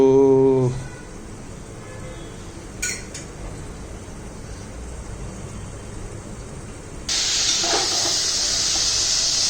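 Quiet kitchen background with a single clink, then a loud, steady hiss of steam from biryani bursts in and continues.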